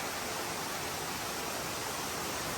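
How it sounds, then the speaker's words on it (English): A waterfall heard from close range in a mossy forest, a loud continuous rushing hiss with no breaks. "in the middle of the waterfall here."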